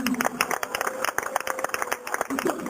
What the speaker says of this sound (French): Applaudis-lui.